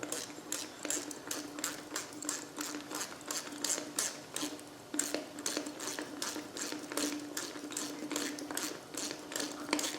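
A ratchet socket winding a bolt down on a Land Rover 300Tdi engine block during a rebuild, producing a long run of rapid, evenly spaced clicking pawl strokes, close and steady throughout.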